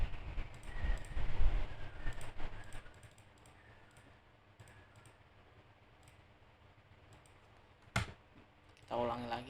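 Computer keyboard keys are pressed to copy with Ctrl C: a cluster of quick taps comes first, quiet ticking follows, then a sharp single click and a short rattle near the end.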